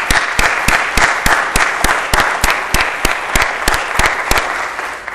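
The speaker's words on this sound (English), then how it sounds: "I'd like to give you all a round of applause." A crowd applauds steadily throughout at a Nasdaq listing ceremony, with sharp individual claps standing out over a dense, sustained patter.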